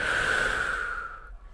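A single long exhale during a mobility exercise, starting as a strong breathy rush, then fading out over about a second and a half.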